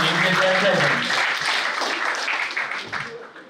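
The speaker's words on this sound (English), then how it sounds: "let us welcome them with a big round of applause as they grace the stage" A hall audience at a college fest inauguration ceremony applauds guests onto the stage, a full wash of clapping that gradually tapers off over a few seconds.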